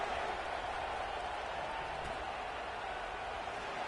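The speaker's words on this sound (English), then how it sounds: "this crowd is buzzing after that last score" A stadium crowd at a football game keeps up a steady, distant roar and murmur, a continuous wash of massed voices and scattered clapping with no single sound standing out.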